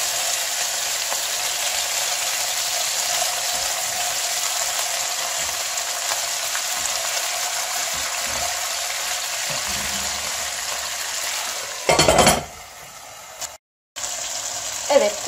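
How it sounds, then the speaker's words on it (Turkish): Spinach and kasar cheese stuffed chicken rolls frying in a pan, a steady close sizzle and crackle running throughout, briefly broken near the end by a clatter and a short moment of silence. "Önünü arkasını güzelce kızartacağız."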